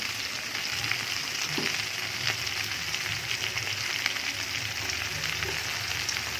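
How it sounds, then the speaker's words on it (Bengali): Okra frying in a pan, steady close-up sizzle and crackle running throughout with occasional stirring clinks, no talking. "তাই আগে ঢেঁড়সগুলো ভালো করে ভেজে নেব"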